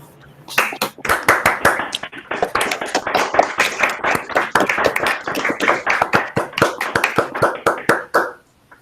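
An audience claps together in applause for a guest presenter, the dense, steady clapping rising quickly and continuing strongly for several seconds before breaking off abruptly.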